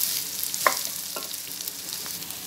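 Rice vermicelli sizzles in hot oil while being stirred, a close, steady hiss with a couple of faint scrapes from the spoon.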